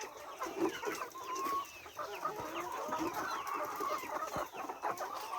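Egg-laying hens clucking on a farm, many overlapping soft clucks and chatter from a nearby flock, continuous and moderately quiet.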